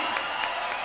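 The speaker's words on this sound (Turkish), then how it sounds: "Bu kadar alkış yetmez, daha kuvvetli." An audience applauds the Antalya Metropolitan Municipality Band and City Orchestra at a concert, a dense, steady wash of many hands clapping together, loud and sustained for the brief moment.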